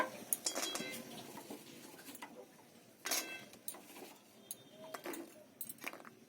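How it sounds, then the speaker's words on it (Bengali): Fried gaja dropping into and being mixed through jaggery syrup, quiet scattered clinks and ticks of a utensil against the pot, close and faint. "এবার ভেজে রাখা গজাগুলো আমি গুড়ের মধ্যে দিয়ে দেবো"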